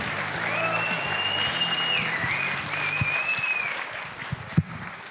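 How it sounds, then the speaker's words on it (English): Audience applause at a stage magic show, a steady sustained wash of clapping across the whole stretch, with a whistle or feedback tone riding over it and a sharp single clap near the end as it thins out. "A big round of applause, ladies and gentlemen, for Justina and Liam."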